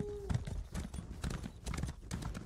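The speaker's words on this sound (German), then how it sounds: "dann rufen wir unser Pferd" Horse hooves clip-clop in a quick, steady rhythm in a German-language video game as a summoned horse arrives, with scattered combat noises around the footfalls.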